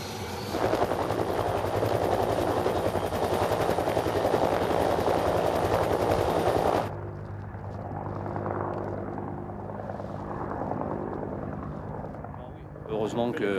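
A helicopter on a Greenland expedition runs loud and close with a dense rotor thrum, then drops to a quieter muffled drone as if heard from inside, with a voice talking over it.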